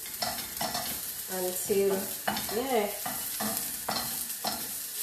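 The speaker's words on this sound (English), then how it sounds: "So I'm gonna continue stir" Cabbage and thyme stir-fried in a pot without oil, a soft sizzle beneath repeated scraping and stirring strokes, with brief bursts of tonal voice-like sound in the middle and a single spoken word.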